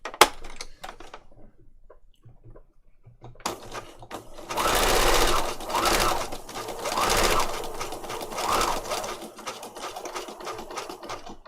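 A sewing machine runs a zigzag stitch across paper patchwork, starting after a quiet pause with a few light clicks, then a close, steady whirring hum with rhythmic surges that carries on for several seconds before stopping.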